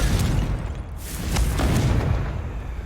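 Confringo fire-blast spell in the Hogwarts Legacy video game, a steady rumbling blast with bright bursts layered over dense low-end game noise, loud and continuous throughout.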